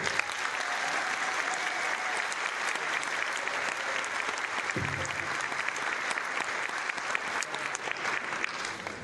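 A professional development audience gives a keynote speaker a round of applause, a long, dense wash of clapping from a large crowd at steady level, with little voice underneath.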